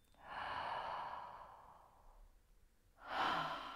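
Slow, audible breaths during a guided meditation: a long airy exhale fading out, a pause, then another breath starting, close and unhurried with no talking over it.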